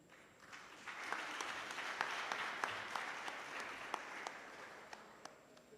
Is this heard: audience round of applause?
yes